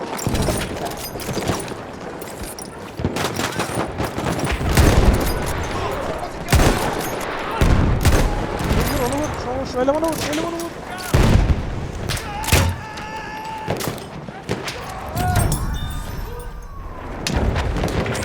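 Battlefield 1 combat gunfire: sharp rifle and machine gun bursts crack repeatedly over 18 seconds amid booms, loud and close, with players talking and shouting between the shots.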